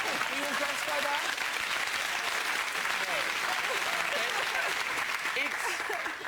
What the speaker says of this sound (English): It's kind of you to applaud that much